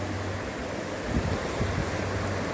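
A river at the Keran Valley riverbank on the Kashmir Line of Control, split into two channels, rushes steadily with a constant broadband roar mixed with wind buffeting the microphone, and no voices.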